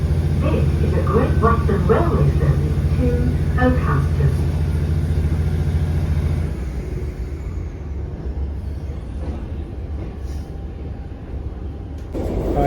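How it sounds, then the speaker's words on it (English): A passenger train to Okehampton in Devon runs with a continuous low rumble and a rattle from the carriage, then settles into a quieter, steadier hum about halfway through. "I'm now on the Oakhampton train and heading there."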